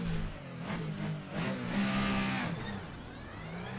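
The twin-turbocharged V6 of a Ferrenzo P49 race car in Assetto Corsa, driven at Mugello circuit, revs up and pulls through several gear changes, rising and falling in pitch at moderate loudness, and no one speaks.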